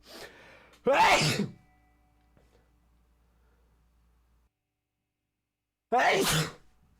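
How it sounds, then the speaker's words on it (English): Two sharp, loud sneezes several seconds apart, separated by near silence. "Oh, I'm gonna sneeze."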